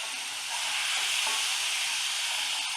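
Water poured into a red chilli powder tempering in hot oil, a loud, dense, unbroken hiss and sizzle holding steady close up for the whole stretch.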